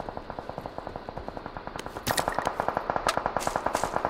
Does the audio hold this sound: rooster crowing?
no